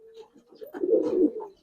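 A pigeon coos close by in a soft, low, throaty phrase that swells and fades, with no talk over it.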